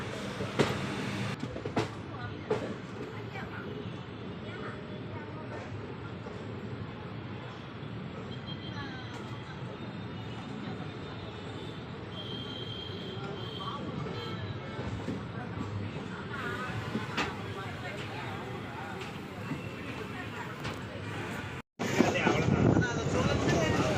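A passenger train travels from Chennai toward Tirunelveli with a continuous rumble and rattle inside the carriage, steady throughout with occasional clanks, and a short break near the end.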